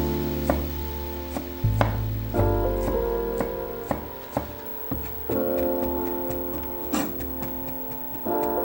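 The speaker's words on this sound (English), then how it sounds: "Once skinned, we'll chop the ginger into long slices." A knife slices skinned ginger into long strips on a board, making a steady series of crisp, close taps with uneven gaps, over soft background music.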